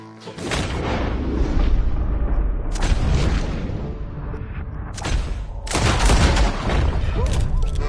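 Gunfire in Red Dead Redemption rings out in several loud, booming bursts with short gaps between them, near and forceful.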